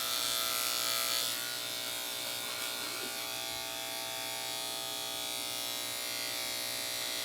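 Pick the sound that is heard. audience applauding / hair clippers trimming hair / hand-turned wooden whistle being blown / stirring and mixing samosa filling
hair clippers trimming hair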